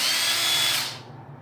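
An old 14-volt cordless drill runs on a DeWalt lithium battery, a loud high whine that holds steady, then winds down and fades as the trigger is released.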